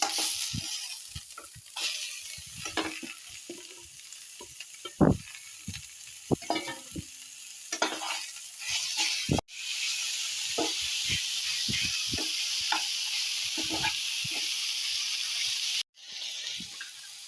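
Banana flower tipped into a hot pan with shrimp, giving a steady, loud sizzle and hiss with scattered stirring clatter, briefly interrupted before the frying resumes.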